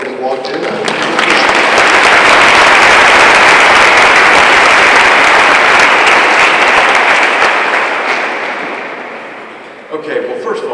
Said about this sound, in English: if you could give him a rousing applause like you did when he walked in.